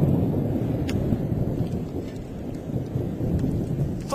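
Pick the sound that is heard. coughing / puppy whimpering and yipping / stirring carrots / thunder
thunder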